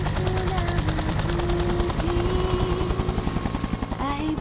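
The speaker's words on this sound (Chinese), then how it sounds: "因为我要带你来做直升机啊！" A nearby helicopter on an outing from a helipad, its rotor chopping in a fast, steady pulse under a thin whining tone, loud and continuous throughout.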